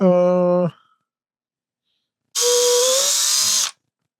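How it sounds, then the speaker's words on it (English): A power drill with a 1/8-inch bit whines briefly, stops for a pause, then runs again with a harsher, grinding, high-pitched sound drilling out metal parts on a 3D printer bed for just over a second. "now we got to drill out these things"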